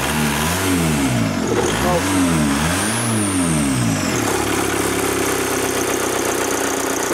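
A VW camper with a swapped TDI engine revs up and down in rising and falling sweeps, then drops to a rough, uneven idle, loud and close, with a brief exclamation from a person.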